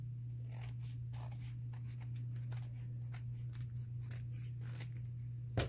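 A scoring blade drawn along paper while making a skinny notepad: short dry scraping strokes, close and soft, repeated several times over a steady low electrical hum.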